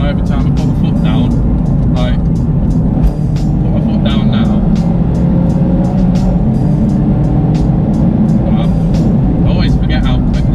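A Ford ST engine roars loudly and continuously from inside the car under hard acceleration, with a low steady drone and rising mechanical noise.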